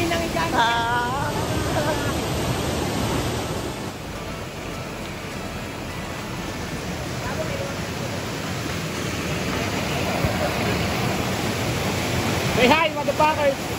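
Strong, continuous rushing water roaring from a waterfall in Bulacan, Philippines, with voices talking and shouting faintly over it.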